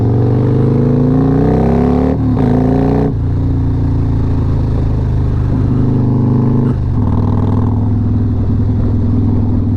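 A Harley-Davidson Road Glide motorcycle rides with a loud, close, steady engine drone, with a couple of quick throttle changes and gear shifts, and no talk.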